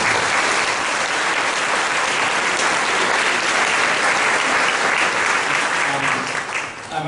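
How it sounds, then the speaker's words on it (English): A town hall audience at a congressman's immigration meeting applauds the panel: dense, steady clapping from many hands fills the whole stretch, loud and sustained, easing slightly at the very end. "How about if we give the panel a round of applause?"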